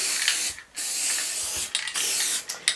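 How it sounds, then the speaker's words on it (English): Spray paste adhesive hisses from an aerosol can onto a quilt in three close, steady bursts separated by short pauses. "I'm going to add the spray paste right now"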